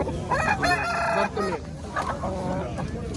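A rooster crows loudly and nearby at a bustling poultry bazaar in Quva, one long strained call followed by clucking fowl and chatter from traders.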